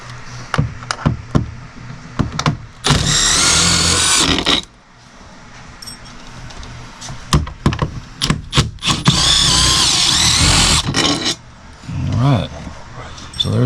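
Power drill backing out anchor bolts from a Fleetwood motorhome rooftop air conditioner, two long loud whirring bursts broken by shorter clicks and knocks, with voices talking in between.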